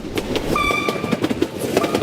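A train rolls past on railway tracks, with steady rumbling, rhythmic clatter and a brief high squeal or horn-like tone, loud and close with no voices.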